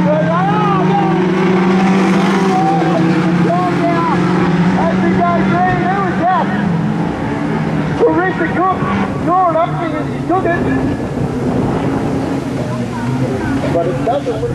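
Junior sedan race cars at Kingaroy Speedway send out a steady, layered engine drone with pitch sweeps as the cars circle the track. Voices talk over the racing throughout.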